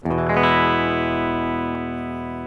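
A single clean electric guitar chord, played on the bridge pickup, rings out bright and sustained, slowly decaying over a couple of seconds with no other sounds.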